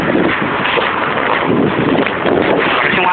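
Strong gusting wind roars steadily across the microphone outdoors in Al Ruwais, United Arab Emirates, a loud, unbroken rush with no speech.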